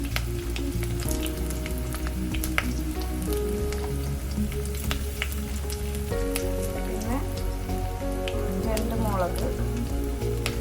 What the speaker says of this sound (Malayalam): പച്ചമുളക് കൂടി ഇട്ട് കൊടുത്തതിന് ശേഷം നല്ല രീതിയിലൊന്ന് ഇളക്കി കൊടുക്കണം